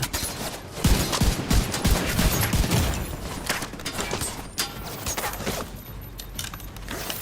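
Rapid M1A rifle fire in The Division 2, a dense run of sharp repeated shots in close bursts through the first few seconds, then thinner scattered cracks and clattering game noise.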